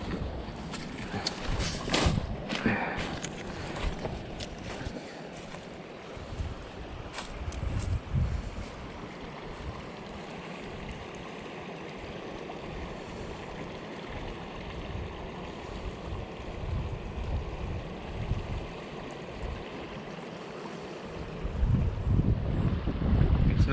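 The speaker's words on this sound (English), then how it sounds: "It's nice when all you can hear is the sound of the water and the wind." A rain-swollen river rushes steadily along the Deep River Rail Trail, with gusts of wind buffeting the microphone at the start and end. No one talks.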